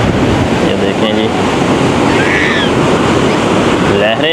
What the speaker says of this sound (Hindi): बेहतरीन लहरें हैं